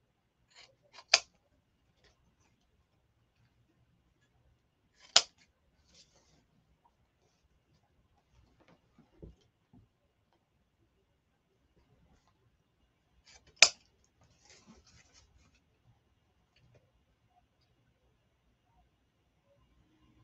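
Scissors snip ribbon tails on a honey bee craft wreath: three crisp, isolated cuts spaced several seconds apart, close and clear against near silence, with a faint fourth snip between.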